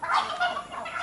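A turkey gobbles on a duck farm with about 1,200 ducks, giving a short, bright, fluttering call that sounds close and fairly loud.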